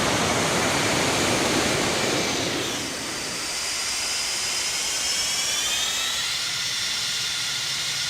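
Boeing 747-200 jet engines roar loudly and steadily on landing as the thrust reversers deploy, a dense broadband rush with a rising whine running through it, and no voices.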